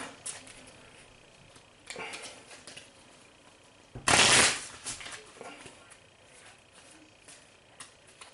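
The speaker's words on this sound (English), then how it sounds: "Let's shuffle real quick." Playing cards for the Shadows of Brimstone board game are shuffled, with a quiet riffle early on and then one loud, brief burst of cards snapping together near the middle, followed by faint handling sounds.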